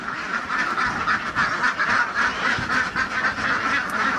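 A flock of Philippine native ducks (itik) quacks continuously and nearby, a dense overlapping chorus of nasal calls with no voices over it.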